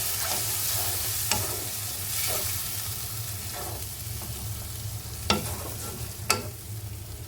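A small amount of water goes into a fried spice paste for a Bengali boal fish jhal, and the pan keeps a steady, close sizzle while a spatula scrapes and taps sharply a few times.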